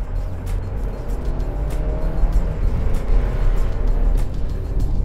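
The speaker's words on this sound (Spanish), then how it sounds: "lo que me gusta a nivel personal es el ruido ronco que tiene cuando lo ponemos en el modo de sport y" A 2018 Audi Q5 in sport dynamic mode gives off a deep, hoarse engine rumble, heard close and steady as it swells slightly over several seconds.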